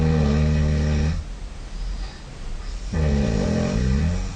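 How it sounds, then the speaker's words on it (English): Snoring heard in a room during a recording session: a loud, rough, drawn-out snore for about a second, a quieter pause, then a second rasping breath of similar strength. "I captured another snore that sounded like it came from the other side of the room."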